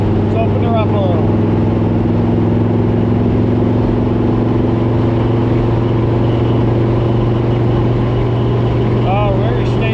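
A car's engine drones loud and close on a test drive, with a steady, dense roar and sustained tonal hum that holds evenly throughout.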